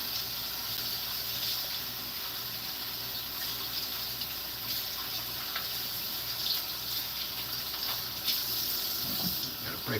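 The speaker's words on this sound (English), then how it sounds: "Rinse this out" A kitchen tap runs into a sink while something is rinsed out during dinner preparation. The water gushes in a steady, moderately close stream for the whole stretch, with some faint talk and handling noises underneath.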